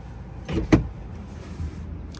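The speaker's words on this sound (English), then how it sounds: "Let me see the Falcon Wing door for the first time." A Tesla Model X Falcon Wing door opens with a brief motorized whir that builds and peaks sharply within a second, followed by quieter mechanical hum; close by, no talk.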